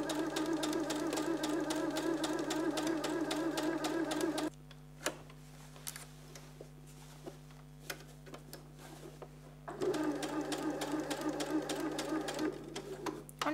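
A sewing machine stitches close along the edge of a shopping bag with a fast, even mechanical rhythm, stops for several seconds of quiet while the bag is turned, then starts stitching again.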